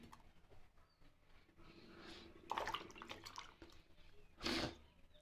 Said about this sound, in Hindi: अब हम इस सब्जी को इस पानी में धोएंगे